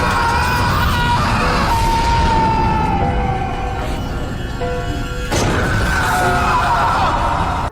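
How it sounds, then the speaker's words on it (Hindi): A man screams loudly after falling down rotten stairs in a horror film scene, a sustained wailing cry amid dense, loud rumbling effects and music that swell again near the end. "जोर से चीखता है।"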